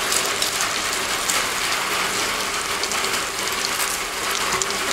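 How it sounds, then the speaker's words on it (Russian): Steady rain falls at a country dacha at night, a dense continuous patter with a crackling, ratchet-like texture, fairly loud and unbroken, with no voices. "Шум дождя."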